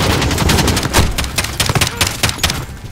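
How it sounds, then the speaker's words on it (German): Rapid machine-gun fire in the shooter game Call of Duty: Modern Warfare: loud, close bursts of automatic shots with dense, crackling reports running continuously. "ist irgendwo ein MG"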